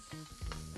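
Onions and corn sautéing in a little oil in a pan, a short burst of sizzling with stirring movements, close and fairly loud with no talking.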